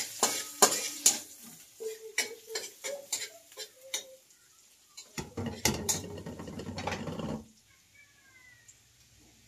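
Garlic and onion are cooked in a pan: a run of sharp taps and clicks from the utensil, then a burst of loud close sizzling that stops suddenly and leaves quiet. No one speaks.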